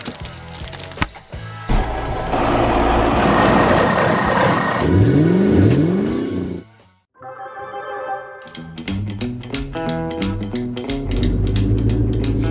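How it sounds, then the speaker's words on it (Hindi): Cartoon police car and giant monster truck race through city streets, engines revving and whooshing loudly alongside bright, tonal cartoon effects, with a brief drop to near silence midway before the busy racket resumes. "पुलिस की गाड़ी और विशाल मॉन्स्टर ट्रक अपनी लिप्स में सड़कों पर दौड़ रहे हैं, जैसे कि भारी मशीनों का शोर निकल रहा है।"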